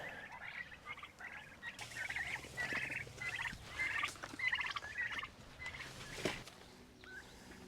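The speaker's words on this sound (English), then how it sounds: "Feed the turkeys their dinner" Turkeys gobble repeatedly in bursty, overlapping calls, fairly close, with rustling and a sharp knock near the end.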